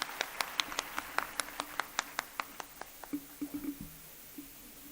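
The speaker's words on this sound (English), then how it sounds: "Loud claps," A small audience at a school annual day celebration claps for a student, sharp regular handclaps near and fairly loud, thinning and slowing toward the end as a few last claps trail off.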